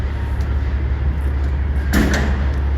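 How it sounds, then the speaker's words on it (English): A sharp bang at about two seconds, rattling like a door knocked against its frame, over constant low rumbling background noise. "There's a banging sound right now at the edge of the door."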